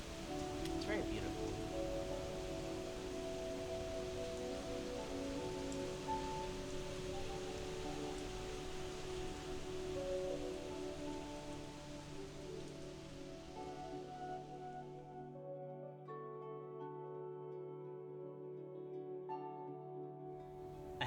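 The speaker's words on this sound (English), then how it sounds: "I'm just gonna be enjoying these last few droplets from the sky in this country" Rain falls outdoors as a soft continuous patter and hiss that holds steady for about fifteen seconds, then thins away and leaves a quiet tonal hum.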